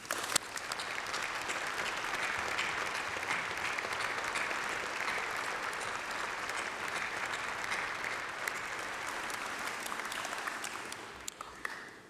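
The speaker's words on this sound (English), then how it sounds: "Please join me in a massive round of applause for all of them" Sustained, even applause from a large audience at a university graduation ceremony, a dense patter of many hands clapping at steady loudness for about twelve seconds before tapering off.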